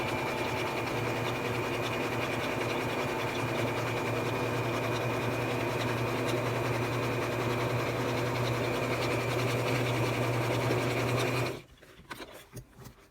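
A sewing machine runs in one steady, loud, continuous hum as it stitches slowly through a scrap-yarn crochet bag, then stops abruptly near the end.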